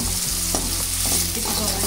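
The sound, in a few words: cumin and onions frying in hot oil for egg curry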